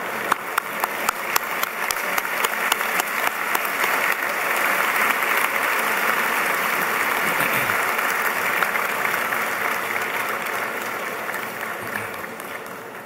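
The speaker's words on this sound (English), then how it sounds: "And parents, you can applaud" Parents applaud at a university senior convocation, starting as scattered distinct claps that swell into sustained, full-room applause and then gradually taper off.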